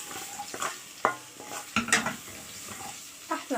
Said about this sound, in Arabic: هتحضري صلصه الطماطم بتاعتك وتبداي تنزلي بيها على الثوم لما التومه بتاعتنا تبدا ان هي تحمر